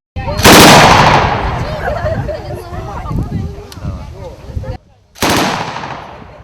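Loud bursts of automatic gunfire at a shooting range, a long rattling volley followed by a brief pause and another burst, with voices underneath.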